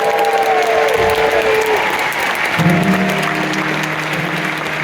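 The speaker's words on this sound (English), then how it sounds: "So let's give them a clap." Concert audience at the Algonquin Commons Theatre in Ottawa claps steadily for a show, a dense wash of hands throughout, while sustained musical tones from the stage drift underneath.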